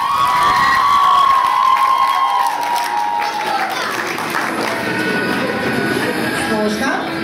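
Audience applause and cheering at a theatre festival award ceremony, a dense, loud crowd of clapping that fills the room continuously, with a sustained tone over the opening seconds.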